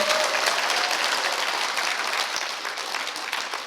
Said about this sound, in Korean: 박수 소리가 왜 약하노?